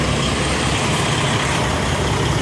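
Loud, steady diesel rumble of a 1990s or early-2000s Freightliner truck idling at a fuel stop, a noisy, unbroken drone running close by throughout.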